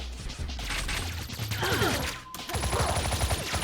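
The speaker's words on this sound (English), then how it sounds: "how is he shooting at me if I can't see where he is" Enemy gunfire in a video game crackles in rapid bursts, fairly loud and close, with a brief cut before the shooting picks up again amid busy game effects.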